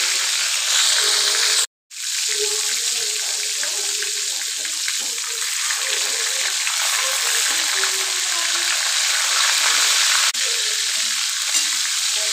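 Brinjal pieces fry in a pan with a loud, dense sizzle and crackle that runs nearly unbroken, with a brief drop near the start and occasional stirring scrapes, close by and alone without talk.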